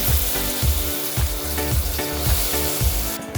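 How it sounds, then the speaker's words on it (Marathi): Moong dal fries in oil with onions and spices, a loud close sizzle broken by rhythmic scraping strokes of a spoon against the pan roughly every half second. "तर मूग डाळ छानपैकी या कांद्यामध्ये अशी फ्राय करून घ्यायची"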